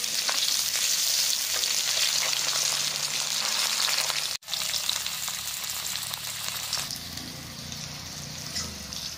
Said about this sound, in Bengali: তেলাকুচটা কিন্তু বেশ সুন্দর করে ভাইজা লাগছে।